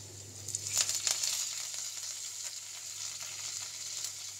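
Garlic, ginger, curry leaves and green chilli sautéing in a pan give a steady, soft sizzle throughout, with a few brief stirring scrapes early on.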